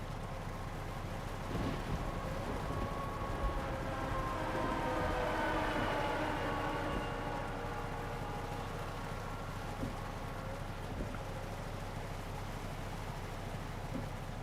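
A freight train in a driving video game rumbling steadily past a level crossing, with sustained whining tonal sounds over a low continuous drone and occasional soft thumps, no voices.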